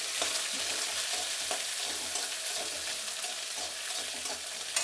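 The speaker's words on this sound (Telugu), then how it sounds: "ఎర్రగడ్డ వేగుతుంది, మన క్యాబేజీ వేగుతుంది." Onion and cabbage frying in hot oil with mustard seeds and chana dal, a steady close sizzle with faint crackles and occasional stirring clinks, continuous and without talk.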